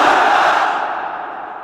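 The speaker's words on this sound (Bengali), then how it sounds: "সবাই মিলে 3টা তাকবীর পড়েন" A large crowd at a religious gathering roars the takbir response in unison, one loud sustained shout that swells and then fades away over under two seconds.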